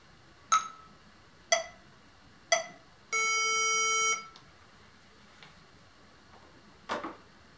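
A metronome app on a phone ticks three evenly spaced sharp clicks about a second apart, followed by a steady one-second electronic beep tone and a fainter click later, all quiet and isolated.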